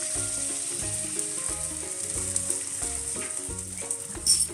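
Oil and butter sizzling in a hot pan, a continuous bright hiss under melodic background music.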